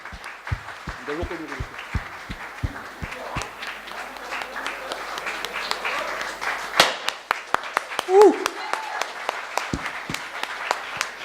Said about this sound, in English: Claps should continue, please.